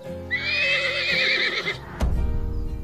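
A horse on a ranch gives a loud, close whinny lasting over a second, followed by a dull thump and rustling movement.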